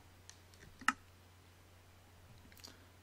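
A computer mouse gives a few faint, sharp clicks in a quiet room, with one clearer click near the start standing out over a low background hum.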